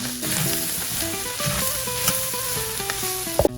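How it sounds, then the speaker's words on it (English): Spices bloom in hot oil in a pot of chunky beef chili, a steady close sizzle with faint stirring scrapes and gentle background music. "it is time to bloom the spices"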